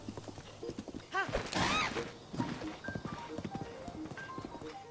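Hooves clip-clop quickly across the ground as a horse gallops in The Legend of Zelda: Breath of the Wild, with a loud whinny cutting through in the middle, set against a soft game soundtrack.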